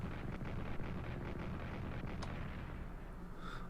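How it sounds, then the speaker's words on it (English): An artillery shot in Strategic Command: World War I rolls out as a heavy, continuous low rumble with muffled booming, a brief sharper crack partway through and the roar settling toward the end. "Let's do the bombing, the artillery shot"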